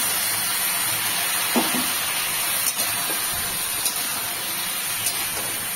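Spice paste added to pointed gourd curry in a pan with little oil sets off a steady, loud, close frying sizzle with a few soft clicks, no talking.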